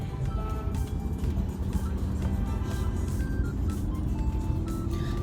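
A car drives along a highway behind a truck loaded with dirt that spills dust, giving a steady, continuous road and engine drone with tire noise and no talk.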